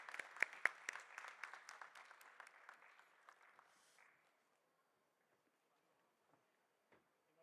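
A small audience claps at a felicitation ceremony during an air quality management session, with sharp, scattered claps for about four seconds before fading out, then near silence with a few isolated late claps.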